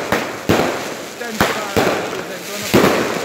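Several sharp, loud firework bangs go off at irregular intervals, each followed by a crackling rumble, with voices talking in the background.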